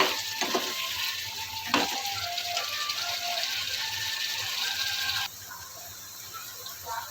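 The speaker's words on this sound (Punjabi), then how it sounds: "ਸ਼ਿਮਲਾ ਮਿਰਚ ਨੇ ਜੋ ਮਸਾਲੇ ਵਿੱਚ ਚੰਗੀ ਤਰ੍ਹਾਂ ਭੁੱਜ ਚੁੱਕੇ ਨੇ" Capsicum sizzles in masala in a pan for soya chaap, with a steady frying hiss broken by a few sharp spoon scrapes and clanks as it is stirred, and the sizzle quietens toward the end.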